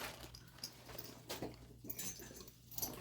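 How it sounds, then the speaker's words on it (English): Two dogs, a retriever and a herding breed, whimper and yip softly nearby in short, uneven bursts, with no talking. "My retriever and my herder."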